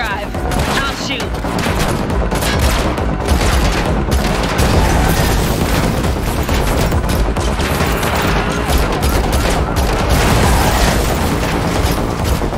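Rapid gunfire in The Matrix Awakens video game on PS5, a dense continuous barrage of shots and booms layered with driving and action noise, loud throughout with no gaps.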